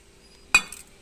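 A metal lid set down onto a kadai of eggs cooking in water, one sharp clanking clink with a short ringing tail in an otherwise quiet kitchen.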